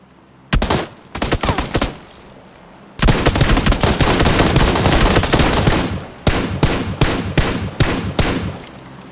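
Rapid automatic gunfire in the PUBG Lite video game, loud and close, coming in several sustained bursts of dense shots separated by brief pauses.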